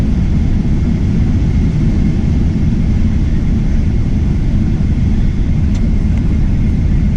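A loud, steady low rumble fills an airplane cabin during turbulence on a flight diverted to Shenzhen by bad weather. The dense engine and airflow roar continues unbroken, and no one speaks.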